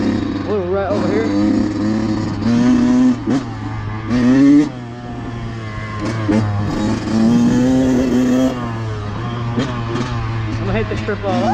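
Dirt bike engines rev and drone on a muddy motocross track, steady nearby motor tone rising and falling in pitch through repeated throttle blips, with people talking over it.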